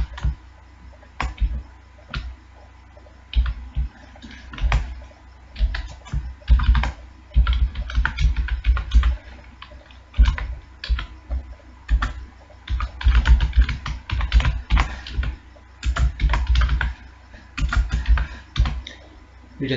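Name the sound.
typing a C program on a computer keyboard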